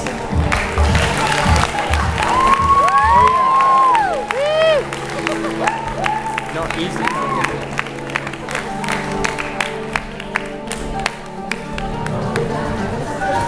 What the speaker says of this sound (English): so we can give him a big round of applause